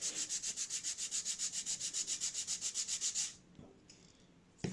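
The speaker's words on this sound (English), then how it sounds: "I've committed to sanding in the house now" Hand sanding of wood for a model aircraft's upper wing, done indoors, gives a fast, regular back-and-forth rasp of about two dozen strokes. The sanding then stops abruptly and a few faint knocks follow in near silence.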